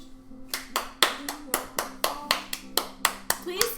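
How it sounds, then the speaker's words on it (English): A single pair of hands claps close up in an even, deliberate rhythm, about a dozen sharp claps spaced roughly a third of a second apart, with a faint steady hum underneath. "Please clap."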